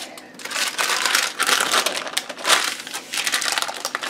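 A knife cuts through a slab of homemade three-ingredient Butterfinger candy, giving brittle crunching and crackling bursts that come in uneven waves up close, with no talking.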